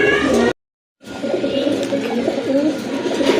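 Pigeons offered for sale coo close by in repeated soft throaty calls. A brief silent gap interrupts the calls, then cooing continues over low background noise.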